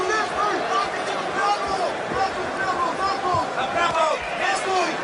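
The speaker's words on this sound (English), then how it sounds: "A little bit more applause from his corner" A boxing crowd at Vitaly Klitschko's bout with Albert Sosnovski keeps up a steady, loud roar of cheers and shouted voices, with applause blending into the din throughout.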